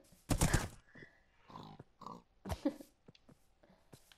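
A Minecraft pig grunts several times in short nasal bursts at moderate level, spread over a few seconds with quiet gaps between them.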